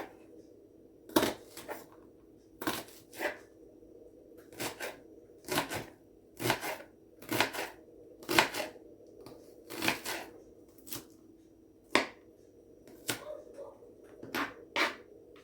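A knife dicing an onion into cubes on a board gives a run of crisp, evenly spaced chops, sharp close taps with short quiet gaps between them and no voices.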